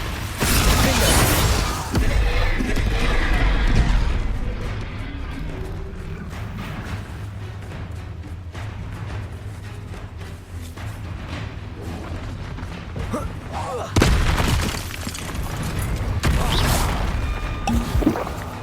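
Repeated Confringo fire spell blasts and other spell impacts in the Hogwarts Legacy video game, loud booming bursts with crackling debris over a dense mechanical game soundtrack, strongest near the start and again toward the end.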